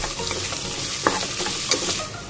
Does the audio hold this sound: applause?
no